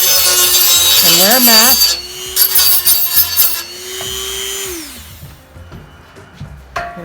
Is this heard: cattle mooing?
no